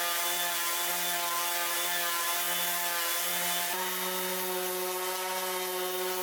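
A Dewalt DCW210 cordless random orbital sander running at full speed with 80 grit paper gives a loud, steady, high-pitched whine and buzz that holds constant throughout, with a slight shift in pitch partway through and no talking.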